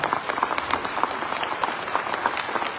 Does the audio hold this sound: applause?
yes